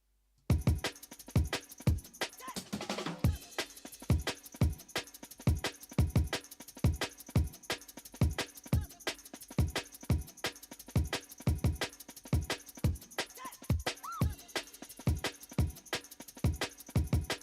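Liquid drum and bass drum loop with a high-pass filter just below 1 kHz removing the lows and lower mids: a quiet, thin, steady stream of crisp, fast hits and ticking cymbals, with no voice over it.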